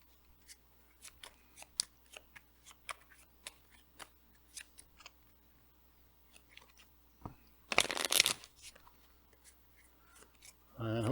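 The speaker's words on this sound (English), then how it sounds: "I'm going to shuffle this up." Marvel Champions encounter cards shuffled at a tabletop: quiet scattered ticks and taps, then a short, sharp riffling burst of cards up close.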